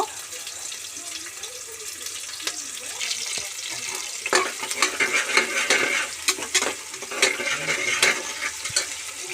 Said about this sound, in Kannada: ಇದು ಈರುಳ್ಳಿ ಒಂದು ಸ್ವಲ್ಪ ಫ್ರೈ ಆಗಬೇಕು